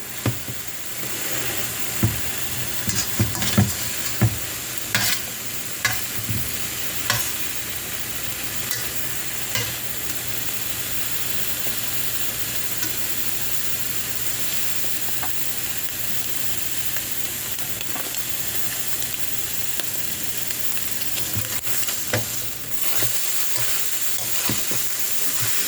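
French toast made from bread soaked in milk and eggs fries in a pan with a steady, close sizzle and occasional sharp scraping clicks from stirring or turning. No one speaks.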